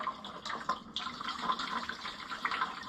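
Fluid drips from a leaking Oliver 1655 tractor engine, a few faint, soft liquid drops and trickles landing close by in a quiet workshop setting.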